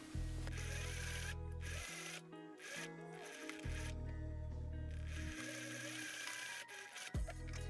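A sewing machine stitches close to the edge of a dress slit, running in several steady bursts separated by brief pauses, near and fairly loud, with no one talking.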